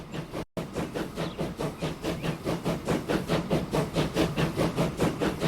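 A steam train departs in the video game Transport Fever 2, with regular chuffing puffs that speed up steadily after a brief cut, loud and close, no talk.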